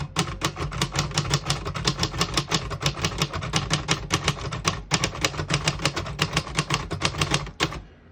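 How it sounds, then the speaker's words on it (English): Rapid keystrokes clack on a 1959 Royal Heritage portable typewriter, a brisk, even run of crisp mechanical strikes close to the mic, with one brief pause midway and a short stop near the end. "I'll type a sentence on the next line"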